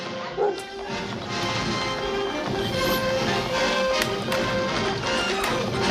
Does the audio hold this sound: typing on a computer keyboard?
no